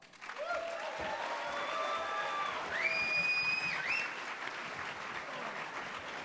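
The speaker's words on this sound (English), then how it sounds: "I want a round of applause for two guys from Infinity Ward." Sustained applause from a large crowd at a San Diego Comic-Con panel, steady and loud throughout, with some cheering and brief tonal sounds rising over the clapping.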